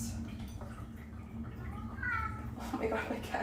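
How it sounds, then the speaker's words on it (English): Pet cats meow indoors, a few drawn-out cries rising near the middle and end over a steady low hum and room noise, with a person's voice faintly present. "my cats are literally meowing so badly"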